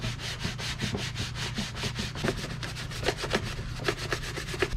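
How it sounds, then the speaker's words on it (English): Hand sanding of a plastic bumper from a Honda CRX HF, worked down to bare plastic: steady, rhythmic back-and-forth scraping strokes, close and fairly loud, quickening toward the end, with no voices. "I sanded the bumper down to the bare plastic and no paint in between."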